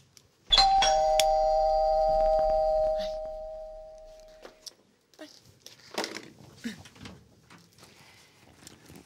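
An electronic home doorbell chimes once, a loud ringing tone that slowly fades over a few seconds, followed by footsteps, a door and people talking.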